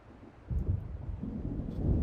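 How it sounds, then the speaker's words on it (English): Low rolling thunder of an approaching storm over Cauldron Lake in the video game Alan Wake, a soft rumble that swells after a quiet start and keeps growling, distant and faint. "It seems there's a storm coming."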